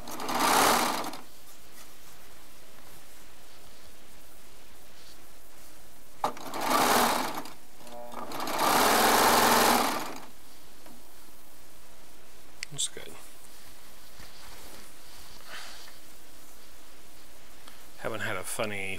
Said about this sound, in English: this one's ready to stitch down now